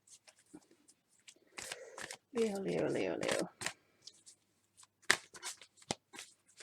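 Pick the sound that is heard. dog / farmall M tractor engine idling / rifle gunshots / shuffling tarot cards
shuffling tarot cards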